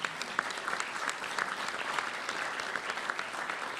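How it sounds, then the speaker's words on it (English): Applause from a luncheon audience at an awards event fills the room, a steady dense clatter of many hands clapping throughout with no pauses. "if we just give them a round of applause."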